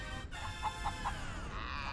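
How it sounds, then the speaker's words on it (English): Chickens in the Crash Tag Team Racing video game give a few quick clucks, three short evenly spaced calls over a dense, loud backdrop of game sound. "Oh, chickens are a thing in this game as well."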